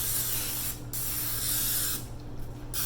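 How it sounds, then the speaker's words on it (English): Olive oil cooking spray hisses from a can onto a lasagna dish in a bursts, steady loud close spraying with two brief pauses before it resumes, a faint low hum underneath. "I'm going to spray this lasagna dish good with some olive oil spray"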